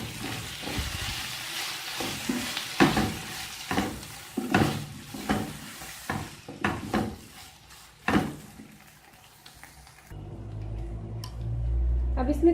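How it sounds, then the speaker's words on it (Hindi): A mayonnaise and garlic mixture for a Philly cheese steak sandwich is stirred with a run of irregular scraping taps and clicks, close and moderately loud, fading into a low steady hum near the end. "Mix it well."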